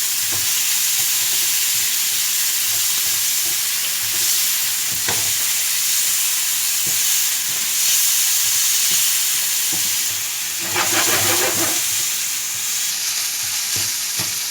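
Chicken mince sautés with onion and garlic-ginger paste in a pan, giving a steady close sizzle with occasional stirring scrapes and a louder burst of spatula clatter partway through.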